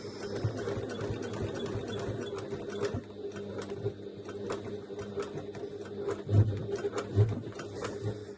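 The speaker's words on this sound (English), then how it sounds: "you could hear that the machine started reacting to the fact that it got a bit thicker" A sewing machine runs steadily, stitching through thick bag fabric with a rapid mechanical whirr and rhythmic needle knocks, straining briefly with heavier thuds near the end.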